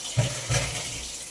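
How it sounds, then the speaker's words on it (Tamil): Water splashes and gushes briefly into a vessel of rice and moong dal set to soak for sambar rice, two short close pours in quick succession. "பாசிப்பருப்பு பருப்பு அரிசி காப்பிடி அரிசி மூணுமே போட்டு வச்சுக்கிட்டோம் இப்போ தண்ணி ஊற்றி நம்ம ஊற வச்சுக்குவோம்ப்பா"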